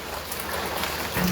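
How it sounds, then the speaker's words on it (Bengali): Steady rain pours down outdoors during a monsoon day, a continuous soft hiss that stays even throughout, with no talking over it. "আর এদিকে বৃষ্টি হচ্ছে"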